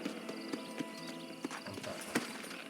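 Horse hooves in the Red Dead Redemption video game, a faint, soft clip-clop with a few irregular thuds spaced through a short stretch under low background game noise.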